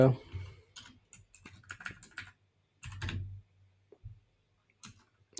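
Typing on a computer keyboard while writing a short line of code, bursts of quick clicky keystrokes in short runs with pauses between, close and clear, with a voice talking at times.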